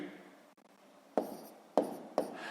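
Hand-writing numbers during a sixth-grade maths multiplication, pen or pencil strokes on paper: three short scratchy strokes after a quiet pause, close and distinct.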